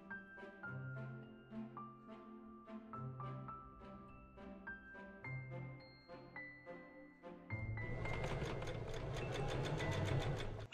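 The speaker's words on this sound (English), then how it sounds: "I machine stitch the second row of braiding to the top of the cups." A sewing machine stitches a second row of braiding onto the cup tops of a floral summer top. It runs as a rapid, steady, buzzing burst in the last few seconds, after a stretch of melodic background music that continues underneath.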